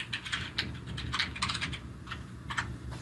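Soft bursts of typing on a computer keyboard as text is entered, quick irregular key clicks in short clusters, faint and close with no talking.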